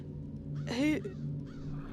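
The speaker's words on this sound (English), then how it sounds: "I'm a bird. Crow's the name." A crow in the Dreamfall The Longest Journey video game gives a single short, harsh caw, close and fairly loud over a steady low background hum.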